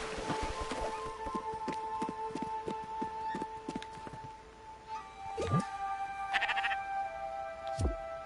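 Sheep bleating in a video game, several distinct bleats with falling pitch at moderate volume over a steady electronic music bed with regular beats.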